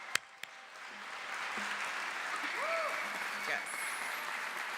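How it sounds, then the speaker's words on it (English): Graduation audience applauding at a Temple University ceremony, a steady distant wash of clapping with a faint voice speaking over it. "give yourselves a round of an applause"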